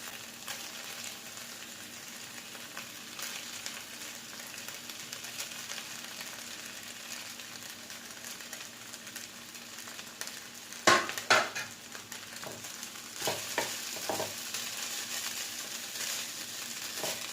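Rice being added and gently stir-fried with mixed vegetables in a pan for a roadside-style fried rice, with a steady low sizzle throughout and a few louder scraping, tossing knocks near the end.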